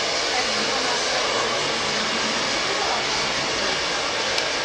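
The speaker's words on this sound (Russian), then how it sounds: "Шумит фен." A hair dryer blows continuously at a steady, loud, airy hiss from start to finish, with no break or change in pitch.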